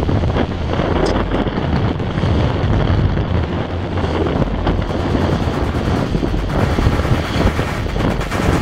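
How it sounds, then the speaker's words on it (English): Strong wind of around 25 to 35 knots roars across a sailboat at sea, buffeting the microphone in a loud, continuous rush with faint water and hull noise beneath, no voices. "slowly the wind clocked down from 35 knots to 30 to 25"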